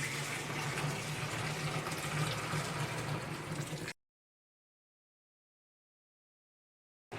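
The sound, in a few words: hot water poured in for home-brewed beer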